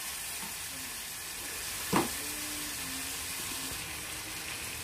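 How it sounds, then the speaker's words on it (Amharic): Meat frying in a pan with onion and garlic gives a steady, close sizzle throughout, with one brief louder clatter of stirring midway. "ስጋውን ከሽንኩርቱና ከነጭ ሽንኩርቱ ጋር ይዞ ቆንጆ የሆነ ጥብስ ደርሶልኛል።"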